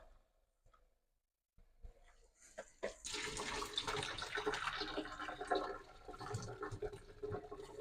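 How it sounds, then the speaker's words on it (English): Boiling water pours steadily into a cup after a quiet start, a continuous splashing gush close by, with a few clinks at the beginning. "Wang some boiling water in there."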